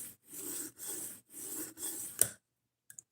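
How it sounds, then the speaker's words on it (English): A knife is drawn across a soft 600-grit sharpening stone in four steady, evenly spaced rasping strokes, followed by a couple of faint taps. "I spent a good hour sharpening this knife."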